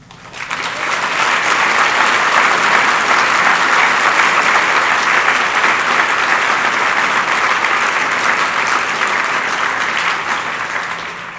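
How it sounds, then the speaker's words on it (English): Loud, sustained applause fills a gala hall, a dense wash of many hands that swells quickly, holds steady for several seconds and tapers slightly at the end. "We applaud you."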